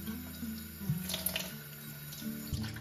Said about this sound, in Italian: utilizzo questo, lo riempio di acqua calda